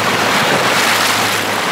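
Waves wash continuously along the Lake Michigan shoreline at Ludington, Michigan, a loud, dense surf roar mixed with wind buffeting the microphone.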